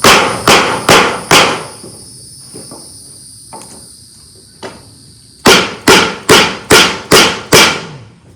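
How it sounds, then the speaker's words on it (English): Sharp blows from a dead blow hammer striking boards to straighten them, a quick run of four hits, a few scattered taps, then six more evenly spaced hits, loud and close, with a steady insect-like drone in the background. "this type of a hammer, a dead blow hammer."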